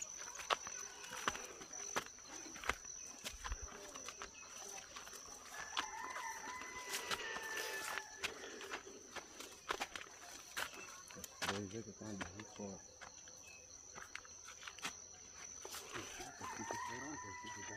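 Hens cluck and murmur close by amid scattered rustling and footsteps, with a rooster crowing faintly at times and a person speaking briefly.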